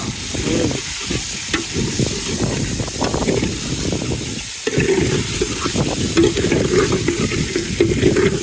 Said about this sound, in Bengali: একদিকে মাছ রান্না হচ্ছে